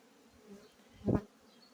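A honeybee buzzes past close by at a beehive, swelling briefly to a loud drone before fading, with faint insect hum in a quiet background.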